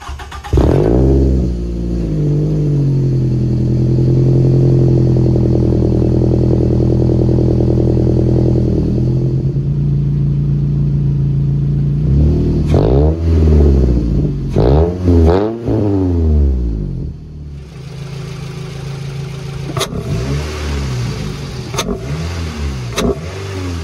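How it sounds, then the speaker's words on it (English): A Toyota Scion tC with aftermarket intake and exhaust idles with a steady hum, then is revved repeatedly in short sharp bursts that rise and fall, loud and close, before settling back to idle. "Love the intake paired with the engine exhaust."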